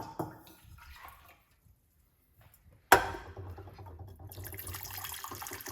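A sudden splash starts a steady stream of water pouring and gurgling into a container, running on continuously at close range after a quiet pause.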